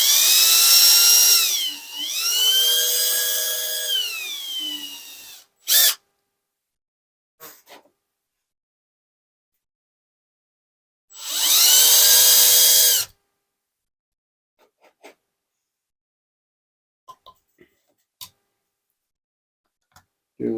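A small rotary drill widens a hole in a LEGO piece, whining loudly in two bursts, the first wavering in pitch for about five seconds and the second briefly steady, with scattered light clicks and taps between.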